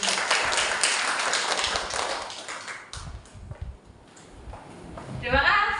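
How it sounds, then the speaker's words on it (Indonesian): An audience claps at a church women's commission anniversary gathering, a dense burst of applause at the start that thins into scattered claps and fades, followed by a voice speaking. "sekali lagi boleh memberikan tepuk tangan"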